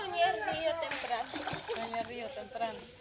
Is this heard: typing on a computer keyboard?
no